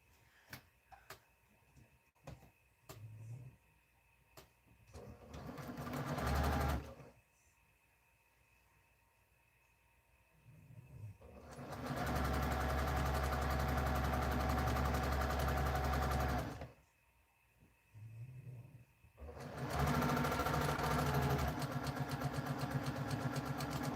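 Sewing machine stitching a seam on a quilt block, long steady whirring runs of several seconds each, separated by quieter pauses with light clicks and handling.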